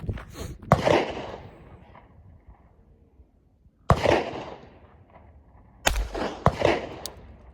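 Three sharp, fairly loud suppressed gunshots ring out several seconds apart, each with a short decay, from a JK Armament CCX suppressor set up with a single baffle and end cap and packed with petroleum jelly.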